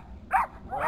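Dogs on a street give two short, close barks in quick succession, each a sharp, mid-pitched yelp.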